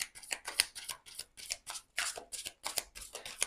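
Tarot-style cards being cut and handled for a reading, producing a quick run of crisp papery riffs and flicks, close and fairly quiet, with no talking.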